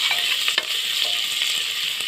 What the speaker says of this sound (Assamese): আদা ৰচুনখিনি গোন্ধ নোযোৱালৈকে মই ভাজি থাকিম।